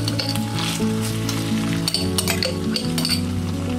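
Homemade tomato sauce poured into a hot pan hisses and sizzles loudly and up close, with glass and metal clinks over a steady low hum.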